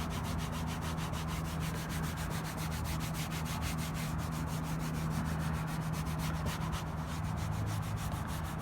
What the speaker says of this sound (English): you're going to use the applicator to really scrub it in